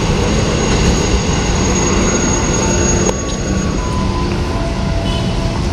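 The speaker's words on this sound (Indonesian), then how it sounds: "Pertama kalinya saya naik kereta dalam seumur hidup ini" A commuter train at Klender station in Jakarta produces a loud, steady rumble with thin tonal whines over it. The noise eases slightly partway through.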